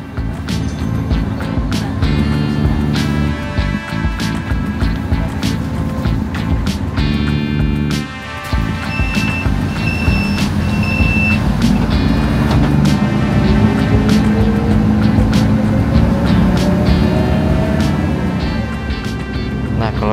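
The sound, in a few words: Transjakarta bus driving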